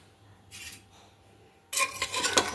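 Spices with black pepper and slit green chillies are stirred in a pressure cooker pot for chicken: a faint brief scrape, a quiet pause, then loud, close, continuous scraping and rubbing against the metal.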